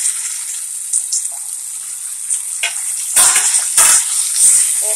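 Chicken pieces frying in a pan with onions and curry leaves, giving a steady bright sizzle. Louder crackling bursts come near the end, with no talking.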